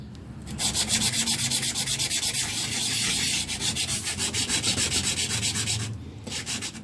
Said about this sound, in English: So I'll start with the 400 grit. Put it up the way that you want to sand it.